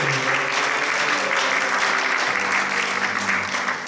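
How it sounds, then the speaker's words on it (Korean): Steady, dense applause from a church congregation during Sunday worship, cheering on the young adults at the front, a continuous wash of clapping with faint voices beneath. "박수 청년들 박수하고"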